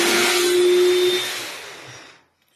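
A Ganiza smoothie blender whirs at high speed with a steady motor whine, then winds down and fades to silence after about two seconds.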